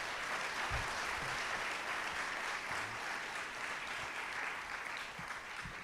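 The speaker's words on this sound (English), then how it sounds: "please, another round of applause." An audience at a tourism industry keynote applauds steadily, a continuous wash of many hands clapping at moderate distance with no talk over it.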